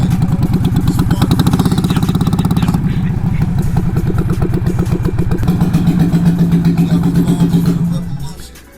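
A Harley-Davidson Sportster 48 motorcycle engine runs loud and close with a steady, pulsing rumble, holding a lumpy idle-like beat before winding down and cutting off near the end.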